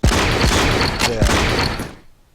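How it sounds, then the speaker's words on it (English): A PIAT anti-tank weapon fires in a World War II video game, a loud, close blast followed by a rolling crackle of gunfire and booms that carries on for about two seconds before dying away. "So we'll shoot our Piat there."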